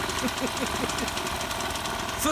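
A Honda GX50 four-stroke engine on a grass trimmer runs steadily with a loud, continuous buzzing drone and a knocking, rattling texture, while a person talks over it.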